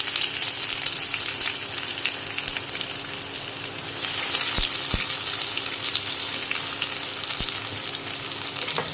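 Bay leaves and chopped onion frying in hot oil with browned, melted sugar for chicken curry, a dense continuous sizzle that swells louder midway, with a few faint knocks of a utensil.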